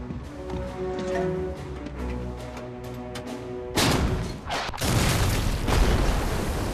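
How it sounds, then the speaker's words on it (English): An M10 tank destroyer fires a round into a fortress's masonry wall, a sudden loud blast with heavy rumbling debris that follows a steady mechanical drone and continues as a broad, roaring wash. "The impact blows a hole at the top of the passageway's masonry wall, just big enough for a man to crawl through"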